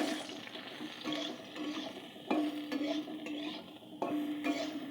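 Soaked soybean chunks going into hot oil in a kadai: a moist, bubbling sizzle with wet sputtering, and several louder splashy surges as more pieces drop in, close and continuous.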